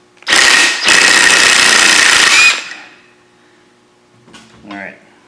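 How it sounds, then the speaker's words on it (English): A half-inch impact wrench hammers bolts loose on a 2000 Ford F-350, two loud sustained bursts close by, the second longer, followed by quieter rattling and a brief voice at the end. "the only way to get them out is to have a good, healthy 1/2 inch impact"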